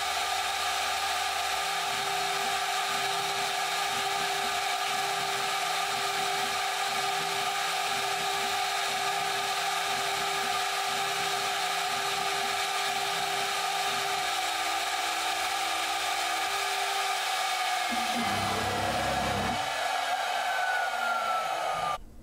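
DMC2 Mini CNC mill machining at 24,000 RPM with coolant: a steady high-pitched spindle whine with a faint rhythmic cutting chatter underneath, the tone dropping away near the end as the machine winds down.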